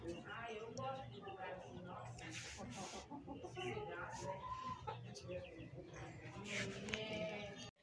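Chickens cluck and call in a backyard coop, with repeated overlapping hen clucks and squawks close by, under steady background voices.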